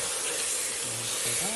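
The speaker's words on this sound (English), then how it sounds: "Then I add my ground beef." Ground beef hits a hot pot for a Ghanaian beans stew, giving a steady broad sizzle and hiss, with a brief low voice underneath.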